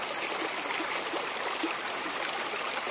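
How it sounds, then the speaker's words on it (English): A mountain spring gurgles straight out of the rocks, a close, steady rush of trickling and bubbling water that continues evenly without any talking. "right in front of me here is a spring that's gurgling right out of the rocks here"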